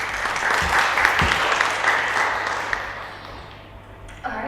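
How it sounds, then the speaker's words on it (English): A seminar audience applauds a speaker with a full, dense round of clapping that stays strong and then tapers off over a few seconds, with a faint knock near the end. "Let's have another round of applause for him."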